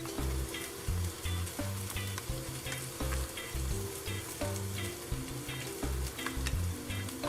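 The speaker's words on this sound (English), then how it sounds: "we're gonna let this fry in the hot oil" Turmeric paste for Trinidad curry goat fries in hot oil in a pot, a dense, close sizzle with steady crackle and a few stirring scrapes, no voices.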